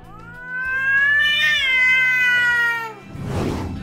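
An Abyssinian cat lets out one long, loud, drawn-out meow up close, then a short breathy sound.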